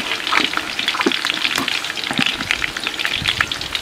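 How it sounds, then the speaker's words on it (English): Fish frying in hot oil gives a dense, continuous sizzle with crackling pops, close and steady, with no voices. "Done frying my fish."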